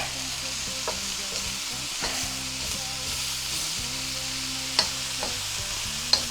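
A Chinese stir-fry mix with mushrooms sizzles steadily in a hot pan while a utensil scrapes and knocks against the metal in intermittent strokes, close and clear, with a couple of sharper clinks and no talking.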